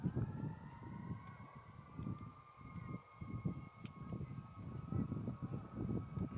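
Distant fire engine and ambulance sirens wail steadily in the background at a high school baseball game, their long tones sustained over a murmur of crowd noise and low rumble.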